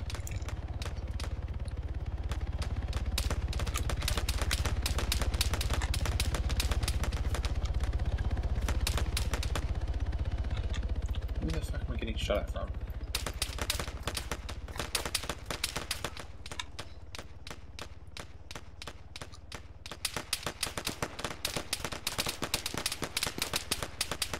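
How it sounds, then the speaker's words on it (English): Rapid, crackling bursts of gunfire in the video game Arma 3 fill the clip, dense at first, then sparser single cracks later, distant-sounding and fairly faint. "I'm hearing a lot of gunfire."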